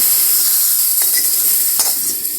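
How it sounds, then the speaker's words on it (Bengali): Tempering of dried red chillies and panch phoron hits a hot wok, giving a loud, steady hiss of frying oil with a couple of brief scraping stirs. "এখন কড়াইয়ে ঢেলে দেব।"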